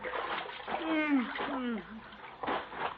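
Water sloshes and splashes in a tub of rainwater as someone climbs out, brief close splashes between and under people talking.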